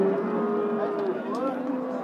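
Cattle at the Beshariq livestock market moo with a sustained, tonal call lasting the full two seconds, loud and close amid a steady crowd murmur.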